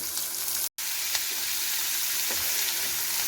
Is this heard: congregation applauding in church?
no